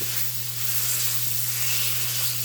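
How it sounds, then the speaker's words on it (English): Ground beef flattened into a pan, seasoned with kosher salt and black pepper, searing with a steady close sizzle and hiss and no voices. "we want to get a really, really good sear on the ground beef"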